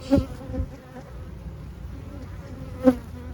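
Honeybees buzz in a packed hive that is preparing to swarm, a faint, close, steady drone broken by a couple of louder bumps from handling the frames.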